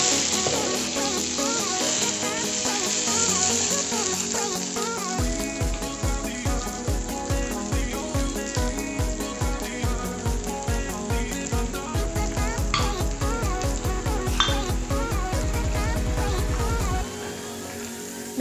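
Onions fry in a pan for a rui fish piyaja, a continuous close sizzle running under a rhythmic, music-like pulsing pattern across the whole stretch, with no clear talk.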